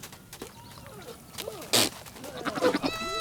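A billy goat in heat bleats and grunts with odd wavering calls, a sharp sneeze-like burst in the middle, then a higher quavering bleat, nearby in an outdoor setting.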